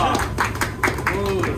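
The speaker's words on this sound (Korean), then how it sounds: "박수!" A handful of quick hand claps from a small group break out among people chatting in a casual stock-trading talk session, the claps short and scattered over excited voices.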